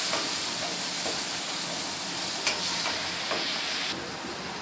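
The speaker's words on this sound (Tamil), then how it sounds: "இப்போ அதுவும் நல்லா ஃப்ரை ஆகட்டும்." Tomatoes, cut into large pieces, fry in oil for vendakkai kara kulambu, giving a steady close sizzle and hiss that runs unbroken throughout, with a few faint clicks and no voices.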